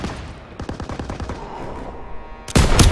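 Machine gun fire in Call of Duty WWII street combat: a fast rattling burst of automatic fire stutters in the middle distance, then a sudden loud close blast erupts at the end.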